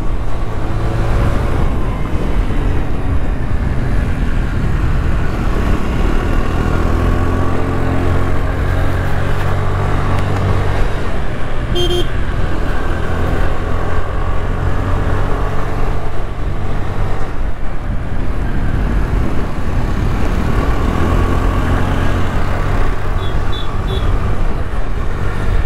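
Honda Dio 2nd gen scooter with raw exhaust while riding on the road, a steady loud engine drone with rushing wind and road noise that holds throughout.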